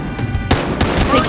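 Rapid gunfire in the Battlefield Hardline video game, loud bursts of automatic shots cracking in quick succession over a dense, noisy game mix.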